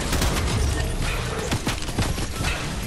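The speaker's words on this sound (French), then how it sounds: "Oh, ça vous tire dessus" A rapid spray of Fortnite gunfire crackles in tight bursts over a busy, loud battle background, with sharp repeated shots close at hand.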